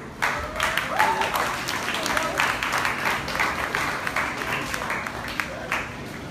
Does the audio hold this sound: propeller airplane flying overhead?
no